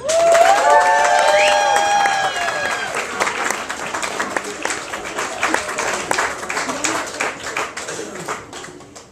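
An audience applauds to welcome poet Kathryn Pringle at the BANG OUT Reading Series. The clapping starts loud with whistles and cheers, then thins to scattered claps that fade over several seconds.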